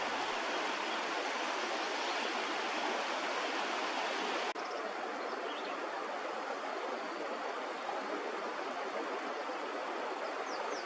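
A creek in the Whitemud Valley in Edmonton flows with a constant, even rush of water, heard alone and fairly near, with no voices.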